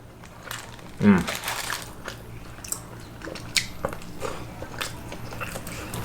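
Someone eats rice with gravy from McDonald's in the Philippines, with one close, soft bite and moist chewing near the start, followed by quieter mouth sounds and small handling noises.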